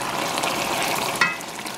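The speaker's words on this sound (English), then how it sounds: "And so I'm going to let it fry for about" A spinach stew base fries steadily in a pot, a dense, even close-up sizzle with a brief scrape or clink partway through, no voices.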